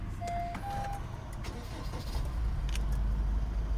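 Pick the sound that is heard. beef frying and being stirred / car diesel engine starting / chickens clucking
car diesel engine starting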